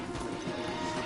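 Horse hooves in the Red Dead Redemption 2 video game as riders dismount on a forest path, a dense, steady patter of hoof sounds under a continuous layer of ambient game noise.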